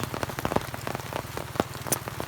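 Rain patters on surfaces in a garden, close, irregular drops tapping against a steady wet hiss.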